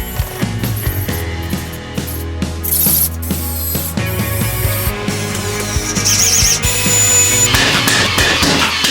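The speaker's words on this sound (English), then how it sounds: "So first just going around with a drill and screwing some screws in at some strategic points." A power drill whirs and ratchets in short bursts as screws are driven into reclaimed timber for shed doors, with music playing underneath.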